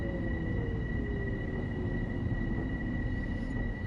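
A train in the video game Train Sim World 3, on New York's Harlem Line, rumbles steadily while braking, with a high, constant squeal and a slowly falling tone over continuous low rolling noise.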